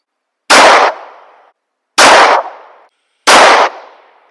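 Three rifle shots fired at a target while testing a budget red dot sight, each a loud, sharp crack with a short decaying tail, evenly spaced about one and a half seconds apart, with no voices.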